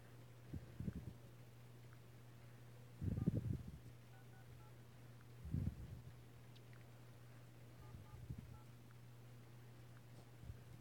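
Faint telephone keypad tones, a handful of separate beeps spread across the clip, sound over a low steady hum with no voices.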